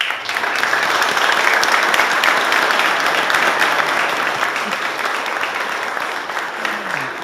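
A room of foundation members gives a warm round of applause at a ribbon-cutting ceremony for a state wildlife center, dense sustained clapping from many hands throughout, loud and close.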